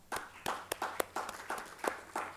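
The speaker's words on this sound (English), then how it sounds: "I think he needs a round of applause." A small crowd applauds at a recreational running talk, with a handful of sharp, irregular claps spread across a couple of seconds, moderately near and thin rather than a full ovation.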